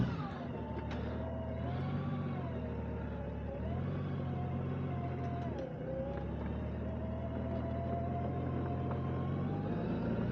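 Motorcycle riding on a road with some gravel, a steady close engine drone with rising and falling pitch through gear changes and throttle shifts, constant rumble and wind throughout.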